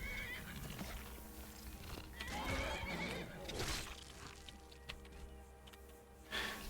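A horse in a fantasy role-playing video game whinnies in several loud, shrill bursts, with clip-clop of hooves and game ambience around it.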